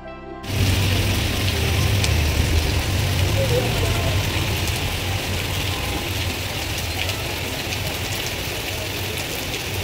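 Steady rain hisses continuously throughout, with a low rumble underneath and some indistinct voices in the background.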